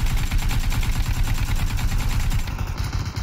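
Sustained rapid gunfire in a PUBG squad match on the snowy Vikendi map, dense repeated shots rattling loudly and continuously throughout, with a brief shift in tone near the end.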